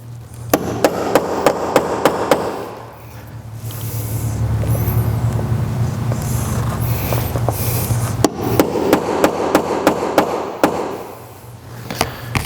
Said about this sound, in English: We're gonna use a center punch and a hammer.